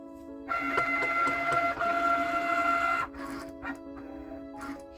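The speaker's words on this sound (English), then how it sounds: "I have inserted the mat into the Cricut cutting machine. So as soon as I give the go, it's going to start cutting it" A Cricut cutting machine working on a homemade greeting card gives off a steady mechanical whir with a sustained hum, then it drops to quieter intermittent clicks and motor movements, close by and with no talking.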